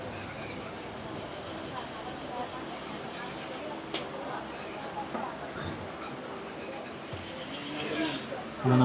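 A Kerala evening passenger train on the Aluva–Shoranur line pulls into the Mullurkara scheduled halt, wheels and carriages rumbling steadily with a thin high squeal running through, a sharp clank near the middle and a voice talking over the train noise.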